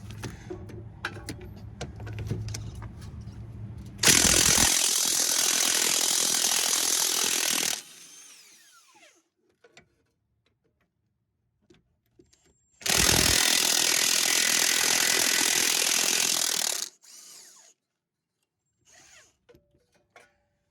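A high-torque power tool whirs loudly in two sustained bursts of about four seconds each while removing rear struts on a 2012-2017 Toyota Camry, separated by quiet with faint clicks and handling noises.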